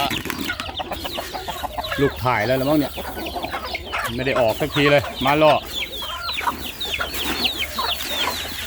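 Chickens on a farm cluck repeatedly at close range, with a rooster-like call among them and someone talking over the flock.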